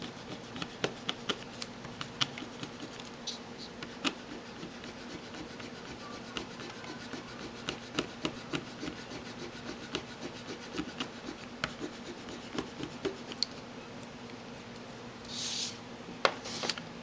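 A Paper Mate PhD Ultra eraser rubs out dark pencil marks on paper, a steady close scratchy scrubbing with small rhythmic ticks running throughout at a low level.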